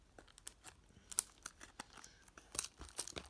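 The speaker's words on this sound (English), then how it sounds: "I'm going to break the seal. Pretty hard to break open." Plastic seal wrap on a Panini FIFA 365 sticker box crinkles and tears in quiet, close, irregular snaps and rustles, with a few sharper crackles as it gives way.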